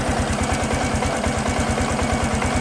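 A Supra X 125 PGM-FI motorcycle engine idles with a steady, rapid low thumping pulse, close by and unchanging, with no voices.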